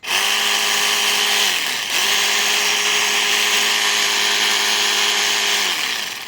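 A Ryobi jigsaw runs at high speed in two bursts, each spinning up to a loud, steady buzzing whine, holding, then winding down.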